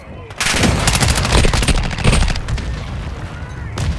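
Mortar strike in Call of Duty Modern Warfare II, a loud, dense barrage of rapid blasts and gunfire rattling nonstop for a few seconds, close and heavy.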